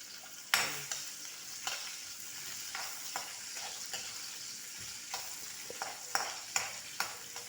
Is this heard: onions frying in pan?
yes